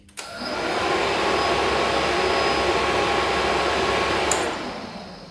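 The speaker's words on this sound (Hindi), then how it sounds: "मैं स्विच ऑन करूँगा, आपको आवाज़ आएगी पंखे की।" A motorcycle radiator cooling fan switches on abruptly and holds a steady, loud whirring rush of air for several seconds before a click near the end.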